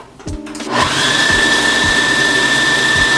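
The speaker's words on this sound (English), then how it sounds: "we're going to blend it up until it is like a powder form" After a few brief starts, a food processor blends oats into powder with a loud, continuous high whir that rises quickly and holds steady, joined by a faint rhythmic thumping underneath.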